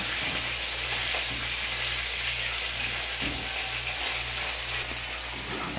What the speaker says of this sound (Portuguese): Vai ficar fritando aqui, né, pai?